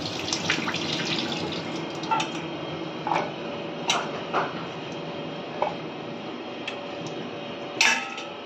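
Ginger, garlic and green chillies are rinsed under a running kitchen tap, the water flowing steadily with scattered clicks and splashes as they are handled.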